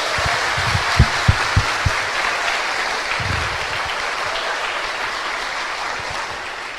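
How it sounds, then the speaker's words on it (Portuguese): A church congregation claps for Jesus during a Portuguese-language worship service, a steady wash of applause with a few louder thumps early on, holding evenly without fading. "Agora era para aplaudir Jesus, aleluia."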